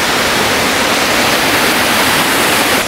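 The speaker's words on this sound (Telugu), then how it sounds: "వాటర్ ఫాల్ అయితే జబర్దస్త్ ఉంది" Waterfall at Ananthagiri Hills, a loud steady roar of rushing water heard close up, unbroken and even throughout with no voices.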